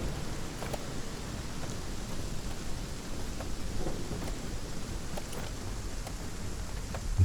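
Rain and thunderstorm in the Aska video game, steady rainfall hiss with low rolling thunder rumbling underneath, moderately quiet and continuous, with no talking.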